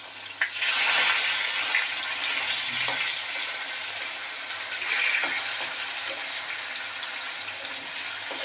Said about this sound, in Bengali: মাছগুলো ভাজা হয়ে গেছে, লাল করে ভেজে নিচ্ছি।